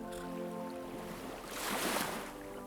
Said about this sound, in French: Tu entends le doux bruit des vagues